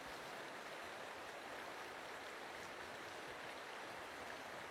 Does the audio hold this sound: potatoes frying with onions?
no